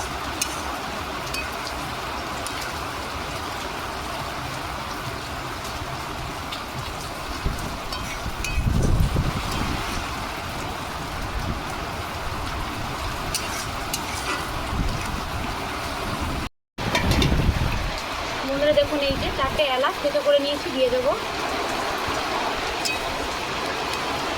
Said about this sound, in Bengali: বৃষ্টি হচ্ছে এখন আর রান্না করা যাচ্ছে না